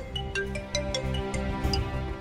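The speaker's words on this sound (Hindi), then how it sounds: "शगुन जी का फोन आ रहा है।" A phone rings with a melodic electronic ringtone of bright, stepping notes in a quick repeating pattern, layered over a low dramatic music bed.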